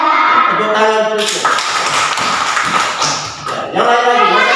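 A class of children applauds in a classroom: a dense patter of clapping for about two and a half seconds, with an adult voice speaking just before and after.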